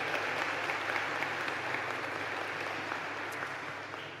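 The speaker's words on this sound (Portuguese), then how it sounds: "Pode aplaudir o Senhor nessa noite?" A church congregation applauds during an evening service, a steady wash of clapping held at moderate level through the whole stretch, slowly fading toward the end.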